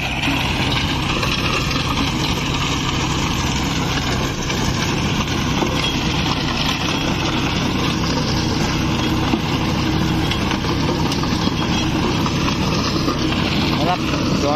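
A tractor with a rotavator works a dusty field during wheat sowing, engine droning steadily and loudly throughout with wind buffeting the microphone and someone talking over it.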